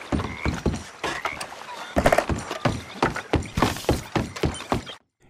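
Horse hooves clip-clopping in a Western video game, a steady run of loud, close thuds in an uneven gait that stops abruptly at the end.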